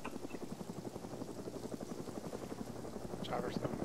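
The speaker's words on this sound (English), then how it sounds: "Chopper's coming back." A helicopter flies close by during a snowy night game firefight, its rotor giving a steady fast chop throughout while people talk over it.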